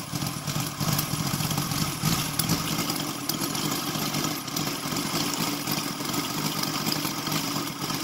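A Sidel 7-cylinder 770 radial model engine, converted to full gasoline with CDI ignition and running on a 20:1 fuel-oil mix, holds a steady, dense buzzing drone throughout, loud and close with no talk.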